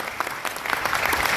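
Enthusiastic audience applause fills a meeting hall, steady dense clapping from a large crowd throughout, with no speech over it.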